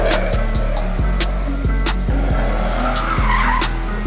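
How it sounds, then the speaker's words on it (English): Race cars at the British Motor Show 2024 skid and rev loudly around a track, with a deep engine roar and repeated rhythmic bursts of tire squeal and throttle, close and continuous. "some cars racing around here"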